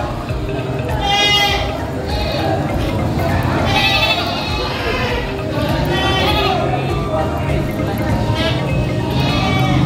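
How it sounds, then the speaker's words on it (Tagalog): Many goats bleat repeatedly at a crowded livestock market, loud overlapping calls close by over a steady din of crowd chatter and people talking. "Ang dami ng kambing."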